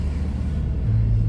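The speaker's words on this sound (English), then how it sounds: "there's a lot of traffic through town" Steady low rumble of road traffic rolling through a town, continuous and moderately near, swelling slightly toward the end, with no talk.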